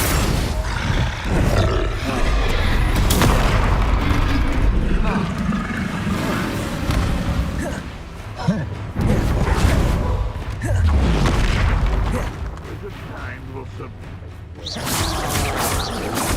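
Spell explosions and blasts from Hogwarts Legacy thunder almost continuously, with deep booming roars and crackling bursts close and loud. A voice chants spell names over the din.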